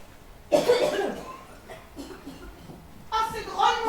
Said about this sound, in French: Oh là là, ça fait tousser,